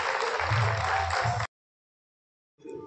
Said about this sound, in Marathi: जोरदार टाळ्या वाजवून